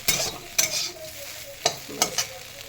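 Soybeans fry in a pan to a soft sizzle, broken by sharp scraping stirs of a spatula at uneven intervals, close up with no talking.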